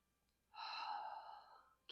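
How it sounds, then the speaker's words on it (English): A single long, breathy inhale during a yin yang yoga class, close and fairly quiet, rising quickly and then fading out, with silence around it. "Keep breathing here."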